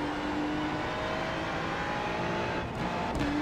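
A Ferrari race car at Mugello in the iRacing simulator holds a loud, steady engine drone with a faint brief dip, no talking.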